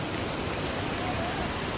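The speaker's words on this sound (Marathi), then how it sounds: "आणि पाऊस काय कमी होण्याचं नावच घेत नाही आहे." Heavy monsoon rain pours down in Talegaon, a dense, even hiss that holds steady and close throughout with no other sound breaking through.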